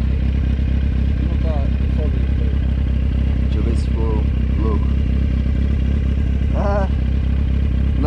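A Kawasaki Z750 motorcycle engine runs loud and close with a steady rumble, while voices talk over it.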